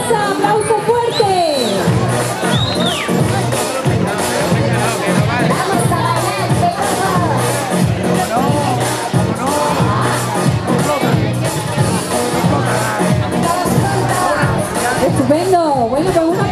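A carnival crowd cheers and shouts for a clown contestant at a costume competition in Bahia, a loud sustained roar of voices, whoops and children's shouts with clapping buried underneath.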